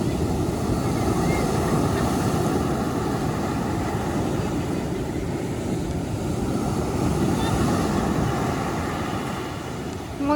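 Sea waves at a beach wash in a continuous broad rumble and hiss, with wind buffeting the microphone throughout.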